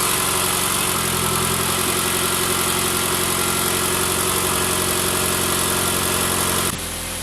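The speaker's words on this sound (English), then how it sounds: "let's go ahead and get a nice first start up with the new spark plugs" A Mitsubishi Lancer Evolution X 4B11T engine, fitted with new spark plugs, holds a loud, steady close-up idle with a raised, even hum, which drops in level just before the end.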